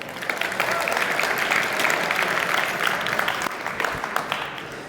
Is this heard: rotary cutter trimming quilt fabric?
no